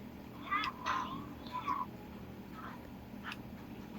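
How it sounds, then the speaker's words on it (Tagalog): A cat meows several times in short harmonic cries, moderately close, over a steady background hum with faint people talking in the room. "Ito talagang pusa na to eh."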